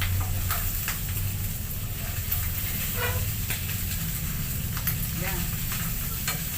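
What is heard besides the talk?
stirring pork adobo frying in oil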